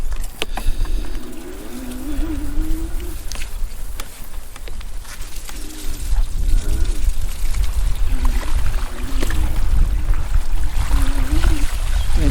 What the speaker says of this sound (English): It's not an issue going through the water at all.